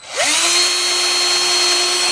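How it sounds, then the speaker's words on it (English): A power drill bores through an archtop guitar pickguard, spinning up with a rising whine and then holding one steady, close, continuous drone with no one talking. "I'm going to drill down through like so there"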